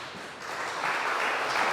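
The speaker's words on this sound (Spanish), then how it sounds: "¿Usted puede darle un fuerte aplauso al Señor?" A church congregation breaks into applause, starting modestly and swelling into a fuller, steady clatter of many hands over a couple of seconds.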